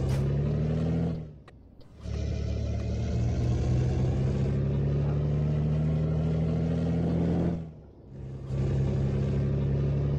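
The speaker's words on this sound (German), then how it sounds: "dass ja diesen Motor, diesen Auspuff, diesen Sound mag ich nicht." Simulated engine and exhaust of a Freightliner Inspiration truck drone in Euro Truck Simulator, a deep steady rumble that dips twice during gear changes and then rises again, loud and continuous with no talk.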